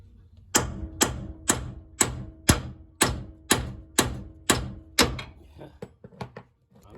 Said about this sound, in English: slamming down on that hammer enough that it should jar it